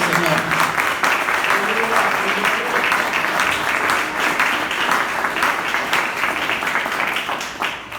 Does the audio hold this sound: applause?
yes